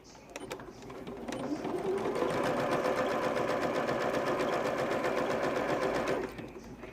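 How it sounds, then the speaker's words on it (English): Sewing machine running steadily for about five seconds as it stitches around three sides of a fabric flap, a continuous close whirring that starts and stops cleanly with no talk over it. "you're just sewing around the 3 sides, you're not sewing the top flat side"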